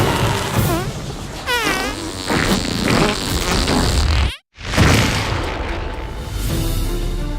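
A comedic time-manipulating fart in the South Park: The Fractured But Whole video game, loud buzzy blasts and sputtering bursts layered with effects, cutting to a sudden silent gap before resuming into a rumbling tail.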